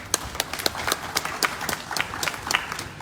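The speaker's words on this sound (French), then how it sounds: "J'aimerais bien que vous l'applaudissiez quand même" An audience at a gathering honouring a group of women gives a sparse, scattered round of applause: individual sharp claps rather than a dense roar, moderately close and steady over a few seconds, with no talking.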